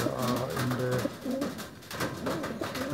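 Racing pigeons of the Janssen Arendonk line coo in soft, repeated low throaty phrases, moderately close, with faint background ambience and no talking.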